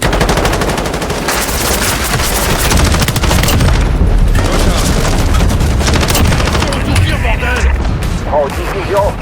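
Dense, sustained automatic gunfire and explosive bursts from a Call of Duty match after an artillery strike beacon is deployed, loud and continuous throughout with rapid overlapping shots and booms.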